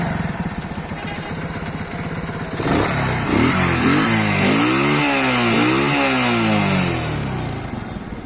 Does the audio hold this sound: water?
no